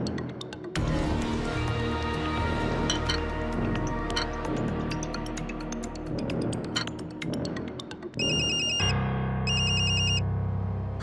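A mobile phone ringtone plays for an incoming call, a melodic electronic tune running several seconds, then giving way to a sharp repeating beep pattern, fairly loud and close.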